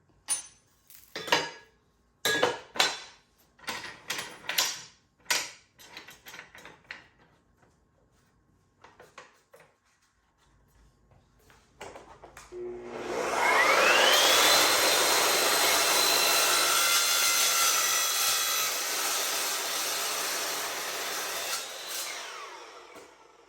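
An Evolution S14MCS cold-cutting metal miter saw spins up with a rising whine and cuts a 45-degree angle in metal, giving a loud, sustained grinding hum for about ten seconds. Some clanks and handling knocks come first, while the workpiece is set up.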